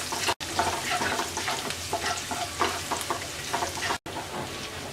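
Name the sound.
chopped garlic frying in oil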